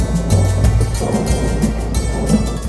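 Steady rain falls continuously with low rumbling noise, heard from a vehicle crossing the Rainbow Bridge at Diabari in Uttara, Dhaka, a dense, even wash with no voices.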